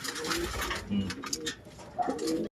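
Blue bar pigeons coo at their nest, a close run of soft, throaty repeated coos in uneven bursts, with no talk.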